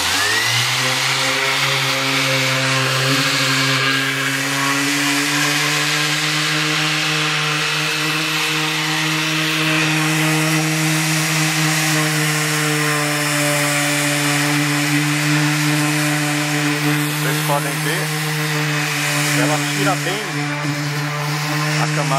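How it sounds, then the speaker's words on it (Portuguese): An electric random-orbit sander, such as the DWT EX-125 or Hitachi SV 13YB, runs continuously while sanding wood filler, giving a loud steady motor whine and buzz with slight rasping variation, close up throughout. "Esse modelo de lixadeira, para quem pesquisou alguma coisa, ele é realmente muito mais potente do que a lixadeira treme-treme"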